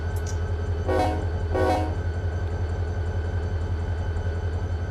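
A diesel locomotive in Run 8 Train Simulator fires up: a steady low engine rumble throbs throughout, with two brief, loud, airy bursts near the start.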